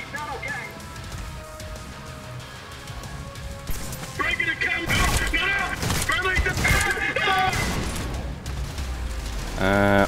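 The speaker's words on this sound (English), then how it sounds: "you can actually fire this quite fast for a shotgun" Shotgun blasts fired in quick succession in the shooter game Trepang2, loud booming shots clustered in the second half amid game noise and music, with a voice talking over part of it.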